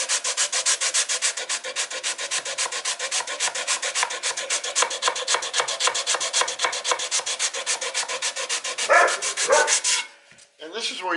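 Sandpaper rubs back and forth across the wooden face of a guitar neck headstock in rapid, even, close strokes for about ten seconds, followed by a brief pause and some handling noise.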